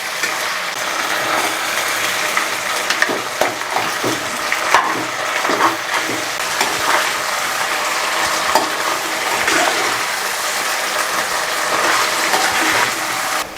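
Small fish head pieces frying with spices while being stirred, a continuous dense sizzle broken by repeated scraping and clattering strokes of the spatula against the pan, close and loud, no talking.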